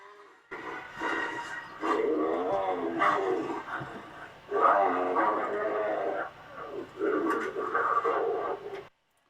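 Radio drama sound effects of tigrons fighting, with bursts of loud snarling, growling and roaring between short pauses, performed close up and likely voiced by people.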